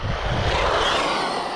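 Traxxas Maxx V2 RC car on slick track tires, its electric motor revving hard with a steady loud whine and rushing roar, close and continuous for a brief moment.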